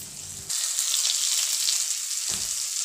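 Stuffed green chillies roast on a low gas flame, giving a steady close sizzle that begins abruptly and carries on evenly throughout, with no voices.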